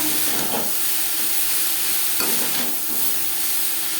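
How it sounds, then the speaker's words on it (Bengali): Grated coconut fries with long beans in a wok, a dense, continuous close sizzle and hiss with occasional soft stirring scrapes. "নারকেল ভাজা হতে সময় লাগে না পুড়ে যাওয়ার সম্ভাবনাও থাকে"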